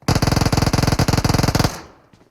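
Rapid automatic gunfire in PUBG Mobile: one loud, close burst of about two dozen evenly spaced shots over a second and a half, cut off sharply and trailing into a short echo.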